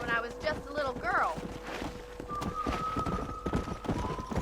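Horse hooves clip-clop at a walking pace in Red Dead Redemption, circling a farm and barn, a steady close rhythm with a brief whinny and a voice talking over it.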